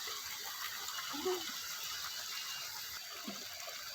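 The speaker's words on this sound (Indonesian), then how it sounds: "Kita istirahat dulu di tepi sungai kecil ini." A small river stream flows steadily beside a jungle trekking trail on the way to a waterfall in West Sumatra, a continuous broadband rush of water with faint mid-range gurgles and no speech.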